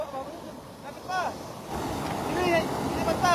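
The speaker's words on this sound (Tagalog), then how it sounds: "Malakas na alon agos yan" Strong waves and current churn and splash against a hull during cast net fishing while wind buffets the microphone; faint voices call out briefly over the steady rush.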